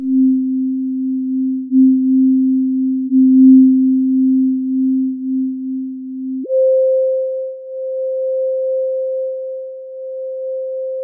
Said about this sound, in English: If we lock the note and play an octave interval, we can immediately listen to the isolated beats.